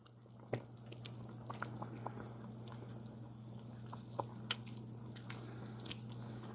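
Chicken gravy stirred in a pan: faint soft squishing and scraping with occasional light clicks from the spoon, over a steady low hum, no talking.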